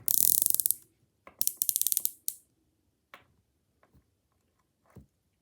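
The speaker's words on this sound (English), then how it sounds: "The bezel on this, really sharp and crisp. Absolutely no backplay in it." A budget wristwatch bezel being turned, giving bursts of crisp, rapid ratchet clicks close up, then a few isolated single clicks spaced apart in near silence.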